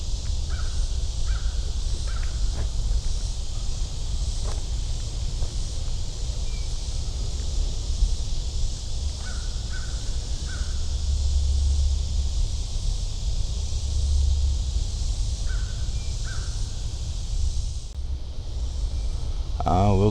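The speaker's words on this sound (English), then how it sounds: "Crows are sure awake." Crows caw repeatedly in the Arkansas woods, short bursts in small groups spread through the clip, with steady wind and low rumble underneath and faint human voices now and then.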